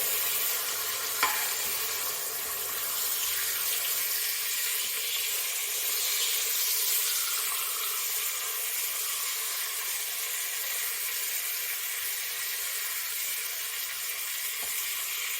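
Chicken browning in an Instant Pot during meal prep for BBQ shredded chicken, a continuous close, even sizzle with a brief clack as pieces are turned, no speech over it.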